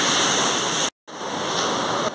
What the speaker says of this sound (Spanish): Se creó como un raudal, tipo un canalcito de agua que va pasando.